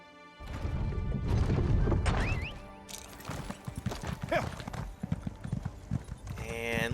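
Rhythmic horse hooves clip-clop in The Elder Scrolls Online, mixed with crashes, a whinny and other busy game sounds, with a voice briefly present.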